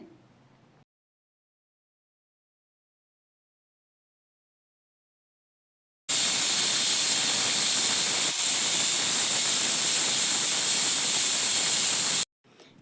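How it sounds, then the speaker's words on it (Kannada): Pressure cooker whistling while country chicken cooks, one loud, steady, hissing steam whistle lasting about six seconds after a stretch of silence, then cutting off abruptly. "ಇವಾಗ ನೋಡಿ ವಿಸಲ್ ಬಂದಿದೆ"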